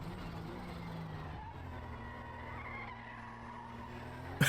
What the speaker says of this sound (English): listen again for the skidding noises